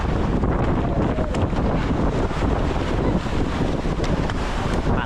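Strong southwest monsoon wind at sea on a Pacific boat voyage, roaring steadily and loud against the microphone with broadband buffeting and wash of waves throughout, no talk.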